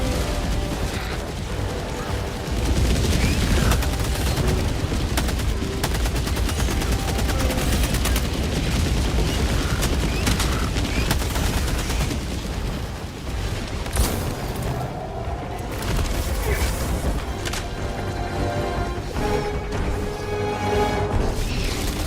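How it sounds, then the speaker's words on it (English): Orbital barrage in Helldivers 2 pounds continuously for about twenty seconds, dense overlapping explosions and heavy rumbling blasts mixed with rattling gunfire, loud and sustained throughout without a break. "Delivering payload. Orbital barrage incoming. Stand clear."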